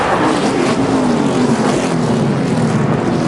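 Stock cars in a NASCAR race roar past at the finish, a loud continuous engine drone with rising and falling pitch from a pack of cars close by, no talk over it.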